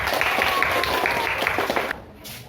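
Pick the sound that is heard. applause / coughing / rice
applause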